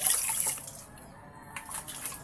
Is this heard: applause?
no